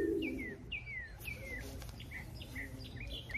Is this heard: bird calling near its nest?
yes